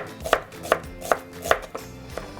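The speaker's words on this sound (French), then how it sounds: "J'émince ces 2 gousses d'ail" A chef's knife minces two garlic cloves on a cutting board, five crisp, evenly spaced chops at a steady rhythm, close and clear with no talking.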